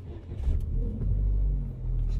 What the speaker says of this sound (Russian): Заводится с кнопки.